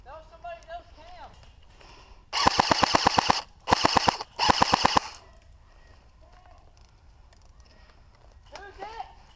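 Airsoft guns fire in a backyard airsoft battle, with three rapid bursts of close, sharp clicking shots separated by brief gaps and shouted talk before and after.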